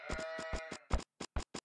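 Sheep bleating in the Age of Empires 2 video game: a run of short, close, nasal bleats followed by a few brief clipped bursts, with no talk.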